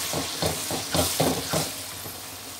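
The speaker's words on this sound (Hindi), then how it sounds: "तो अब हम इसमें ऐड कर देते हैं बैंगन जो हमने अपना मद करके रखा हुआ था, और इसको कर लेंगे अच्छे से मिक्स।" Mashed eggplant is stirred into tomatoes frying in a pan, giving about six rhythmic scraping strokes over a soft continuous sizzle, close and fairly quiet.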